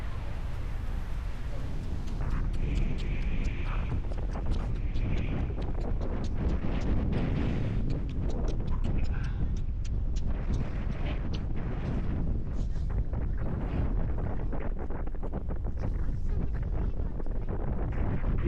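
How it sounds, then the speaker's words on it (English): Wind at a beach buffeting the microphone in a steady low rumble throughout, with faint voices now and then beneath the gusts. "It's a little windy at the moment."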